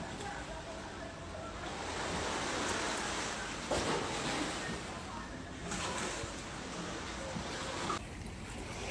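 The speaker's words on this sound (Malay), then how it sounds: "Dengar bunyi ombak kedebus-kedebus tu memang best lah." Sea waves break close by on the shore at Pulau Pangkor, Malaysia, with a constant rushing wash, swelling and surging in broad roaring bursts over a steady hiss.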